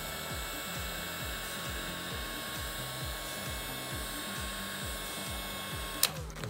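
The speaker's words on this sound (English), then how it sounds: "These little Ryobi ones are actually pretty good for quick jobs" A small Ryobi heat gun blows steadily with a constant whooshing whine and a fast repeating pulse underneath, close and loud, until a short sharp click near the end.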